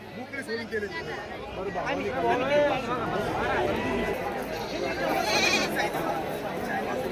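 Goats, including pregnant does, bleat now and then through a crowded Saturday livestock market in Shirur, Pune district, while people chatter and talk close by over a constant background hum.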